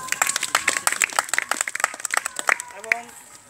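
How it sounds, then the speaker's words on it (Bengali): A gathered crowd at a Red Crescent Dhaka College unit event claps together in a brief burst of dense, close applause that thins out toward the end. "আমরা তাদের জন্য একটা করতালি দেই"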